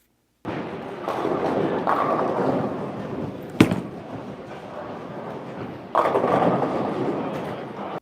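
In league bowling, a ball rolls down the lane with a steady rumble, then strikes the pins with one sharp crack. The rumbling continues and swells again later amid a loud, echoing alley.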